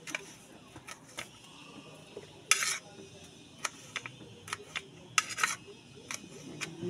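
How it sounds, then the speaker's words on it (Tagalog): A knife slices food into small pieces with no chopping board, likely against a plate while preparing a Filipino dipping sauce. Light, irregular clicks and scrapes sound at close range over a faint background hum, with no talking. "hiwain ko lang to ng maliliit"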